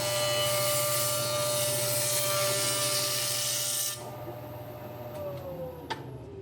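Wood jointer surfacing a board in a woodshop, a steady whirring cutterhead hum that drops abruptly partway through as the cut ends, leaving a quieter spinning-down machine tone.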